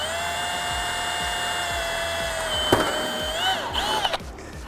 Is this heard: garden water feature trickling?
no